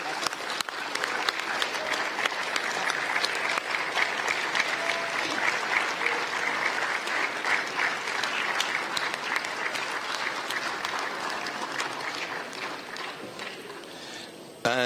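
A Governing Council assembly at an IPU meeting in Kigali, Rwanda, breaks into long, even applause from a large room, steady clapping continuing for many seconds before stopping.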